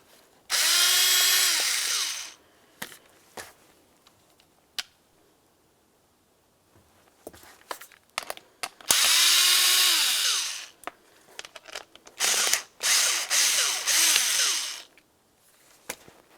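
Power driver removing three 7mm bolts from a 2000-2006 Chevy Tahoe seat switch, with three loud whirring bursts separated by quiet pauses and small clicks and handling noises, close up.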